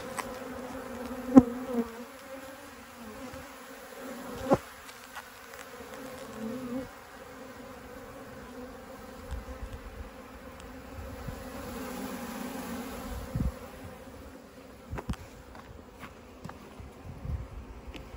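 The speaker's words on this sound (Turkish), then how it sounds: "Şimdi bu kovandan tarlacı arılar haliyle çıkacaklar" Forager honeybees swarm out of a hive frame shaken during a spring colony split, a continuous soft buzzing hum with a few faint knocks, no voices.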